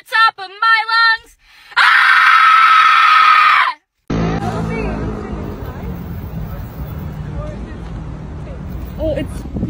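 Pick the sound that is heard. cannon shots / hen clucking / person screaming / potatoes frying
person screaming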